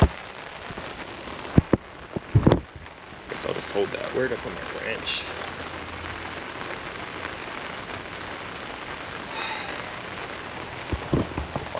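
Steady rain pattering on surfaces throughout, with someone speaking briefly and a few clanks and knocks up close.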